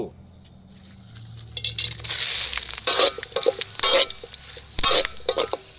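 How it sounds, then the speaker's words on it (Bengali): Cardamom, cinnamon, cloves, bay leaves and dried chillies dropped into hot oil for tempering, bursting into a loud crackling sizzle after a quiet start, with stirring clatter in a village-style kitchen. "এখন বাগারের জন্য তেল দিয়ে দিব এলাচ দারচিনি লং তেজপাতা শুকনা মরিচ সব একসাথে আছে সব দিয়ে দিব"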